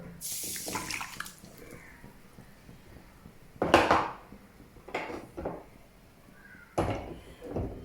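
Water splashes into a pan for boiling cucumber in a couple of short, close bursts, with clattering of vessels and quiet pauses between them.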